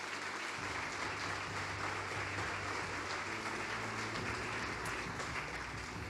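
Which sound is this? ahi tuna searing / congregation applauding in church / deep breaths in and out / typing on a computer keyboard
congregation applauding in church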